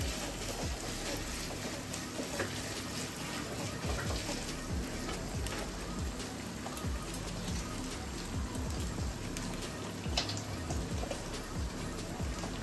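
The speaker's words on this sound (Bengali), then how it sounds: "তেলের সাথে একটুখানি ভেজে নেব" Jackfruit seeds fry in hot oil for a Bengali curry, giving a soft, even crackling sizzle that holds steady and fairly quiet across the whole stretch, with faint scattered pops and no talking.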